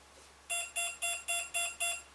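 Six evenly spaced electronic beeps from a hexacopter's speed controller during battery setup, bright and tonal, repeating in a quick steady rhythm.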